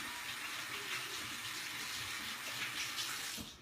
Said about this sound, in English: Hold on, I want to wash my hands.